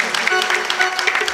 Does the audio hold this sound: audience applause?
yes